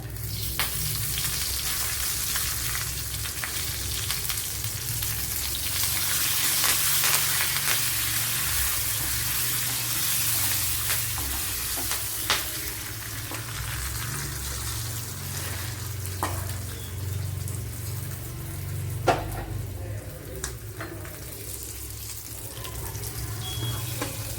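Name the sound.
mustard seeds, shallots, dried chilli frying in coconut oil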